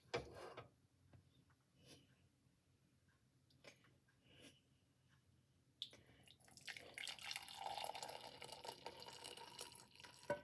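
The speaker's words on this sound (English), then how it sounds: "let's see how graciously I can pour this into the cup" A homemade drink is poured from a pan into a cup, a steady close liquid stream rising after a quiet stretch of faint clinks and lasting several seconds.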